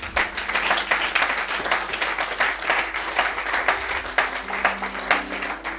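A church congregation at a Sunday service breaks into sustained applause, dense and fairly loud throughout, with faint voices mixed in.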